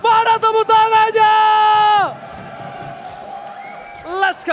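An arena crowd at an MPL Indonesia Mobile Legends esports match between Dewa United and Bigetron Alpha cheers loudly at first, then fades to a quieter murmur under game sounds before swelling again near the end.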